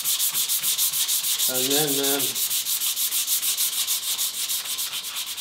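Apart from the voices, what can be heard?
sanding coated plywood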